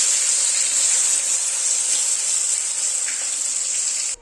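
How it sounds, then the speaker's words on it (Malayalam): Ground spice paste going into hot oil in a pan for a mackerel chilli fish curry, giving a loud, steady hiss and sizzle that holds evenly for about four seconds, then cuts off abruptly. "ഇനി നമ്മൾ നേരത്തെ അരച്ച് വെച്ച അരപ്പുണ്ടല്ലോ, അത് നമ്മൾ അതിലേക്ക് ചേർക്കാൻ പോവുകയാണ്"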